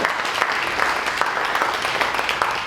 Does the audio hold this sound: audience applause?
yes